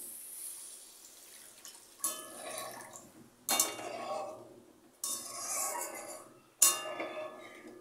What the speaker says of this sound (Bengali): এবার পরিমাণ মতো জল দিয়ে দিতে হবে।